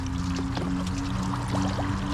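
Water trickling and splashing from the coolant overflow of an overheated Land Rover, a steady pouring patter close by over a low engine hum, with no voices.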